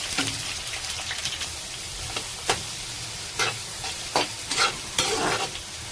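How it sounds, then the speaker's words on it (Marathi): Onion frying in oil with mustard seeds, curry leaves, chili and cumin for a cabbage dish: a continuous close sizzle punctuated by several sharp spatula scrapes and stirring clatters. "आता ह्याच्यामध्ये मोहरी, कढीपत्ता, मिरची आणि जिरा टाकून घेते। कांदा टाकून घेते।"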